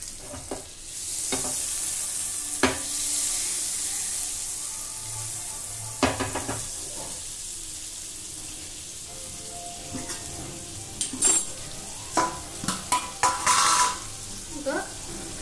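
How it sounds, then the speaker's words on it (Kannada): A tablespoon of salted butter melts in a pan for white sauce with a soft steady sizzle, punctuated by scattered spoon scrapes and clinks as it is stirred, the clatter growing busier near the end. "ಅದಕ್ಕೆ 1 ಟೇಬಲ್ ಸ್ಪೂನ್ ಬಟರ್ ಹಾಕ್ಕೊಳ್ತಾ ಇದ್ದೀನಿ. ನಾನಿಲ್ಲಿ ಸಾಲ್ಟೆಡ್ ಬಟರ್ ಯೂಸ್ ಮಾಡ್ತಾ ಇದ್ದೀನಿ."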